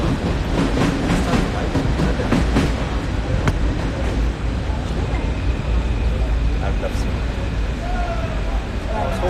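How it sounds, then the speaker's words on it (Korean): A subway train in Paris rumbles along steadily with faint rhythmic clatter and occasional squeals, close and continuous throughout, while people talk over it. "흔히 볼 수 있는 지하철."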